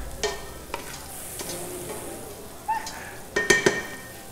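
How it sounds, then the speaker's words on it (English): Bacon jam sizzles steadily in a frying pan during a timed cooking competition, with a utensil stirring and scraping through it and a few sharper metallic clinks of spoon against pan near the end, no talking. "So it looks like there's just like two separate pans going right now. We got the bacon jam going in one, yeah."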